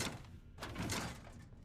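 A locked door opens in the video game Fallout 4, heard as a mechanical clunk followed by a heavy sliding, thudding rumble, fairly quiet and without talk.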